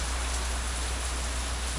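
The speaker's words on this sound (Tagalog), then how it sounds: "Sobrang lakas pa din ng bagyo. Hangin, ulan, walang tigil." Heavy typhoon rain and wind pound steadily around a house, a dense, constant roaring hiss close by with no pauses and no voices.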